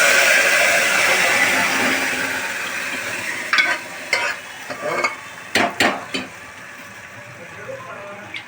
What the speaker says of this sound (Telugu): తిరగ అయితే పెడుతున్నాను తిరగ అయితే వేస్తున్నాను